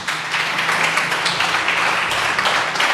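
Church congregation giving a loud, sustained round of applause, dense and even clapping from many hands throughout.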